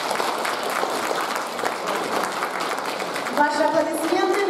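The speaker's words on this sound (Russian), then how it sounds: "Ваши аплодисменты." Audience applause after a children's dance performance at a jubilee concert fills the hall with steady, dense clapping; near the end a brief voice or tone rises over the clapping.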